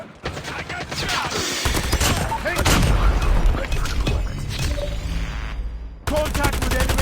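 Dense bursts of automatic gunfire and explosions from Call of Duty Mobile fill the clip loudly and continuously, with game voice callouts mixed in.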